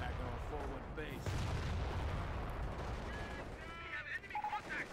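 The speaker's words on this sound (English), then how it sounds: "Artillery used from multiple fronts." Artillery fire in Company of Heroes during a 2v2 tournament match, with repeated booms and gunfire crackling under excited commentary that talks throughout a busy battlefield din.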